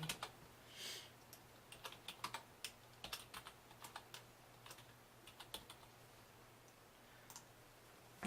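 Close, quiet typing on a computer keyboard, with irregular clicks and short rapid runs of keystrokes and no talking.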